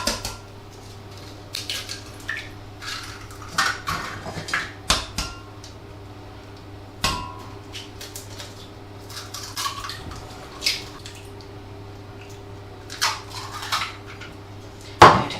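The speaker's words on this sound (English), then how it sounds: "So break your 4 eggs into a jug." Four eggs cracked one after another into a jug in a home kitchen, sharp shell taps and clinks against the jug scattered among soft wet drips over a steady low hum, with no talking.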